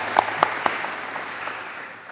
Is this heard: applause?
yes